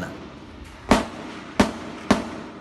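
Three sharp gunshots crack out at irregular intervals over a low background hiss during an armed clash in Tipo-Tipo, Basilan, Philippines, each loud and abrupt with a short decay.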